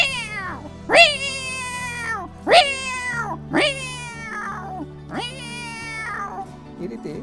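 A voice imitates cats fighting angrily, with four or five loud, rising and wailing yowls and growls spaced a second or so apart, and a low steady hum beneath them.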